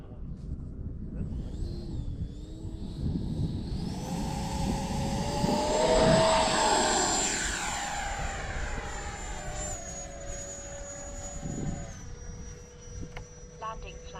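An FMS Futura V3 RC jet passes close and loud with a rising, whining turbine-like roar, then a higher tone continues as it moves away, with faint talk beneath.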